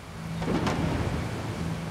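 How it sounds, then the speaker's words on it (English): Thunderstorm in a forest, a steady broadband roar of rain and wind with a low rumble swelling briefly, dense and continuous with no voices. "But in this storm, Keenan's biggest concern is the potentially freezing night ahead."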